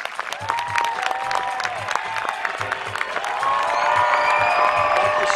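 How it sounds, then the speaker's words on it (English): Audience applause at a magic show during an outdoor festival, sustained dense clapping with occasional whoops and cheers that swells louder toward the end. "Applause!"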